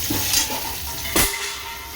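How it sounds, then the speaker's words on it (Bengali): Two eggs sizzle and crackle steadily in a hot pan, with a brief louder scrape midway. "আর ছেলের জন্য দুটো ডিম ভাজছি।"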